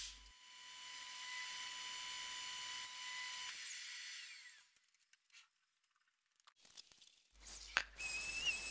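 A table saw with a homemade zero-tolerance sled cuts a veneer board: a high, steady whine runs for several seconds, then the blade winds down into near quiet, followed by scattered knocks and a brief burst of motor noise.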